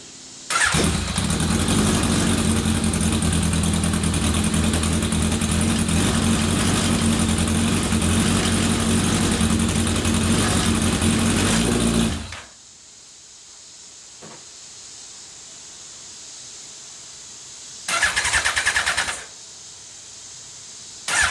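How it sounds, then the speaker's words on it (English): A Chevy engine with choke and throttle trouble cranks and catches, roars loudly and steadily for about twelve seconds, then abruptly cuts out, followed later by a second brief burst of running before it dies again. "The vehicle does run for a short amount of time if I mess around with either the choke system or the throttle system."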